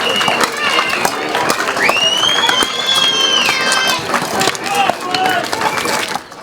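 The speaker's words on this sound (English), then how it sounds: "Give them a round of applause." Speedway crowd at an Isle of Wight Warriors versus Cradley Heathens meeting claps and cheers loudly and continuously, with dense clapping and raised voices, including a long rising-and-falling shout, all close and sustained.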